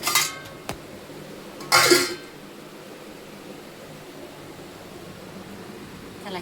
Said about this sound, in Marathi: दूध गरम झाले, झाकण ठेवते.